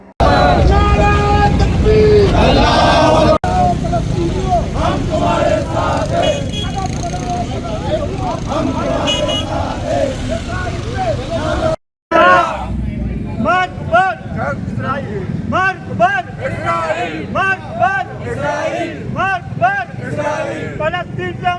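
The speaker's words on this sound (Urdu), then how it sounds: "کیسے نعرے لگا رہے تھے، سنیے ذرا" A rally crowd in Lyari Town chanting slogans in solidarity with Palestinians, loud rhythmic massed voices outdoors with wind and crowd noise, broken by a brief gap midway.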